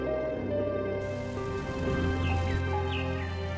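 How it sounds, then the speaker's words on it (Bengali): A cartoon rain sound effect plays: a soft, even patter of falling rain heard over a sustained, layered musical score with faint chimes, continuing unbroken with no voices. "বৃষ্টি পড়তে শুরু করেছে"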